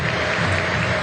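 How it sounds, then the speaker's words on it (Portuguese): Applause from a large stadium crowd during a football match tribute, a dense continuous wash of clapping filling the whole brief moment. "aplausos"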